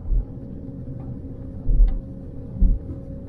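A Land Rover Discovery 3 on an 18% downhill grade with hill descent control working, giving a low interior rumble and hum with recurring deep throbbing pulses about once a second, heard with no talk.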